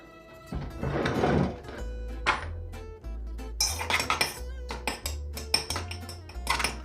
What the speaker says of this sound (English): we're just gonna give it a little stir just to meld the flavors together